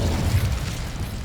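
Incendio fire spell cast in Hogwarts Legacy on PS5, a brief low whooshing burst of flame with a booming rumble that fades over about a second, no talk.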